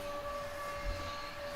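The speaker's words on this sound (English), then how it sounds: "We got the siren burning, baby!" A steady, droning siren tone from a WWE Survivor Series WarGames broadcast sounds faintly at a distance over a low background rumble.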